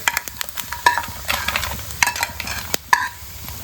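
Grated coconut roasting in a pan for a mung dal payasam, dry scraping stirs and clinks of a spoon against the pan over a faint sizzle, close and irregular, with no voices.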